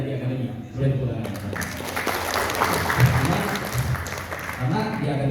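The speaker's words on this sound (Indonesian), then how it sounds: "Boleh tepuk tangan." An audience applauds at a Battle Bagan Batu event, a steady broadband patter rising after about a second and continuing under loud voices and shouting.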